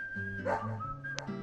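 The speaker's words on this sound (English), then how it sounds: "Dog." A dog in the video game Deadly Premonition gives a short bark and a yelp over a sustained tonal game soundtrack, brief and close, with a sharp click-like burst shortly after and no talk.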